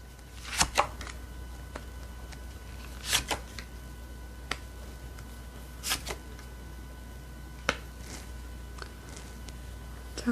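Tarot cards are handled, shuffled and drawn at a quiet table, giving a few sharp, separate flicks and snaps spread over several seconds against a steady low hum, with no voices.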